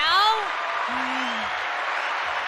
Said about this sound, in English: listen to the cheering of the crowd.